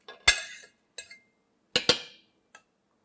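Metal clinks against a cooking pot as shredded beef roast goes back in, a few sharp close knocks in two quick pairs followed by one faint tap, with quiet in between.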